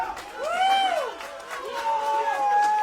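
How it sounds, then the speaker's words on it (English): Rugby crowd at an England Community Lions U19s match against France, urging on kicker Jameson: a loud, sustained swell of voices with rising shouts and whistles, steady throughout. "The crowd willing him on."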